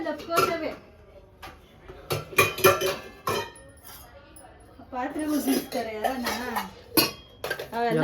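Pots, pans and dishes clink and clatter in a home kitchen in short, scattered bursts, heard up close beneath people talking.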